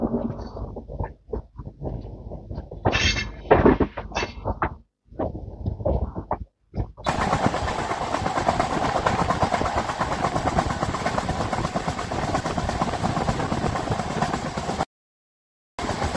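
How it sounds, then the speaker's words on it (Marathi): A passenger train pulling out of Daund station toward Solapur in heavy rain, opening with scattered bangs and clatter, then a steady loud rushing rumble of the moving train that cuts out briefly near the end. "इकडून गाडी आता निघाली आपली"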